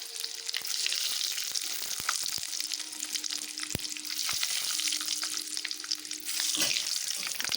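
Dried red chilli and whole spices for tempering fry in hot oil, making a steady close sizzle and crackle with scattered pops and a faint underlying hum, with no speech.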